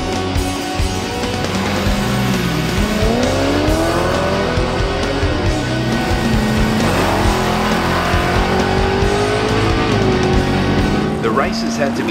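Holden VL cars drag racing at a bracket meet: engines scream and rise through the gears with tyre squeal, loud and continuous, while a narrator talks over the action.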